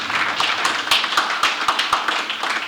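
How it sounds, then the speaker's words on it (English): Brief, uneven clapping from an audience at a talk, with distinct individual claps close to the listener rather than a full roar of applause. "A round of applause for her."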